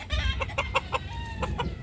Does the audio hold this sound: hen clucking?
yes